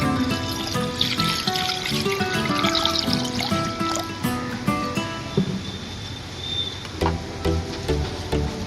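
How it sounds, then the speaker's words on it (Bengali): Water is poured into a kadai on a lit stove to boil potatoes, a steady trickling stream lasting several seconds, fairly close, with tonal background music underneath. "পানি দিয়ে দেবো পরিমাণ মতো"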